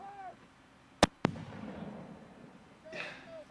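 Two sharp mortar blasts from a military clip being watched, close together and followed by a short rumbling tail. Voices are heard faintly in the background.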